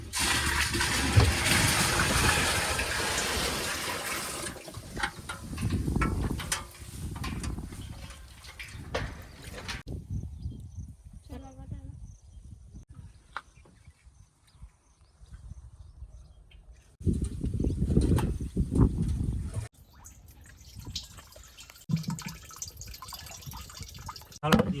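Water runs into 100-litre barrels on a farm, filling them for pesticide spraying, with bursts of gushing and pouring and a few quieter gaps. People talk at points over the splashing.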